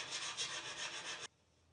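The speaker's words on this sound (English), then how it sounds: "I use a fine draw file to level the surface a step further" A fine draw file rasps steadily across the surface of a small metal repair, a continuous close scraping that runs for over a second and then stops abruptly.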